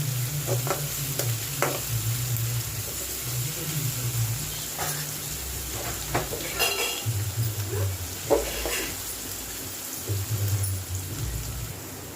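Sliced onions frying and sizzling in oil in a pan while making a shark fish fry, a steady crackle with occasional stirring and spoon scrapes against the pan, no talk.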